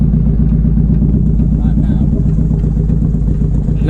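A Nissan Pulsar GTiR engine runs steadily after its first start in seven years, a loud, close, continuous idle with a throbbing low rumble throughout.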